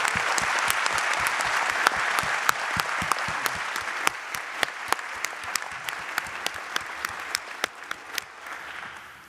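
Audience at a talk applauding the volunteers who helped, a dense wash of clapping that gradually thins into scattered individual claps over about nine seconds.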